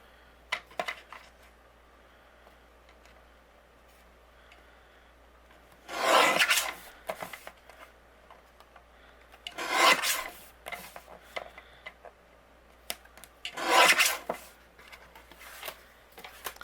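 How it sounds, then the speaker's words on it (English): Paper trimmer blade slicing cardstock in three separate rasping strokes a few seconds apart, each a short, close, scratchy swish, with quiet handling taps and shuffles in between and no talk. "I'm going to take my paper trimmer and we're going to trim this down"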